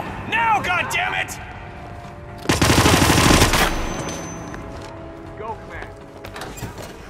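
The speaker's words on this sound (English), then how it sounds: "I heard gunshots." Rapid burst of automatic gunfire in a tactical video game, a loud dense rattle lasting about a second amid game voices and mechanical clicks, then tailing off.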